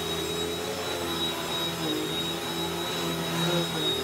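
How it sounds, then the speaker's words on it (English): A household vacuum cleaner runs at home, giving a steady, loud motor whine and airy hum with a high tone on top that holds evenly throughout, with no talk. "These people want to see a vacuum."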